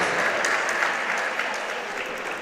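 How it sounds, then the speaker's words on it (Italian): Arena crowd applauds during an IBO featherweight boxing bout in Sardinia, a steady wash of clapping from many hands, moderately loud and even, thinning slightly at the end. "Tanti applausi per Kapai."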